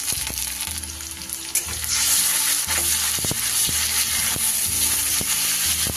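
Onions with salt and ginger-garlic-green chili paste stirred in a frying pan, a loud continuous sizzle with repeated spatula scrapes, close up and without speech.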